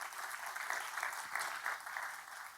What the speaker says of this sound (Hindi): आइए तालियों के साथ हम स्वागत करें।